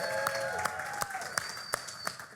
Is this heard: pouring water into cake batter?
no